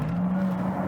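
Porsche Taycan electric car driving in Sport Plus mode, a steady whining drive tone with road rumble, heard close and continuous for under a second.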